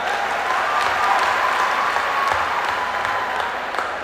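A large audience at a comedy show during the 2010 Saifai festival applauds in dense, continuous clapping that holds at a steady loud level for about four seconds, with no talking over it.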